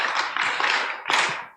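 Congregation at a church rally in Korea clapping together after a chant of the country's name, two dense bursts of loud, close group claps with a brief gap between them.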